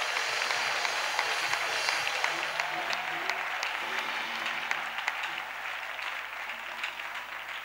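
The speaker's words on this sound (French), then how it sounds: "Clap offering to Jesus." A church congregation gives a steady round of applause offered to Jesus during an intercession service, the even clapping filling the room, with voices murmuring underneath.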